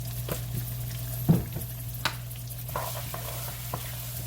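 Food fries in a Eurocast pan while chicken and rice casserole is cooked; a soft, steady sizzle runs throughout with a low hum beneath and a few light clinks and taps from the pan, no one talking.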